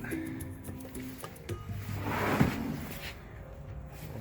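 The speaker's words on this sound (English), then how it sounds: "Door action." A cabinet door in a Ford E-250 camper van conversion slides and bumps open and shut, a rolling scrape building to a soft thud amid faint clicks and light background noise.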